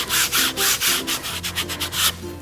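A metal burnisher is rubbed firmly over the corners of an etching plate, giving close, repeated scraping strokes in short bursts with brief pauses between them.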